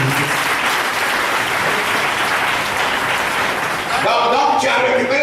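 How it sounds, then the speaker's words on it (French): A church congregation claps loudly and continuously in praise, a dense close wash of many hands, with voices rising over the applause near the end. "Applaudissez très fort pour le Seigneur."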